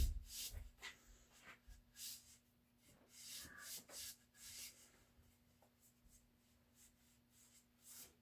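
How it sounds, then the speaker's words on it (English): A tack cloth wipes sawdust from a wooden axe handle in short, soft rubbing strokes, close and quiet, with brief pauses between passes and a faint steady hum underneath. "Got a tack cloth here. I'm just kind of cleaning all the sawdust out of it."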